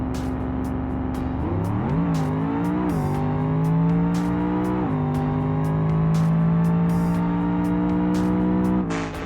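A Gavril Bluebuck makes a drag run in BeamNG, its engine roaring loudly and climbing through revs, with sharp gear shifts breaking the pitch before the sound cuts off near the end. No one talks.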